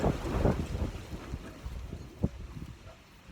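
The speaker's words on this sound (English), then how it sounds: "Very windy in this garden." Wind blowing in a garden, a gusty low rumble buffeting the microphone, strongest at the start and easing off, with a few soft knocks and no voices.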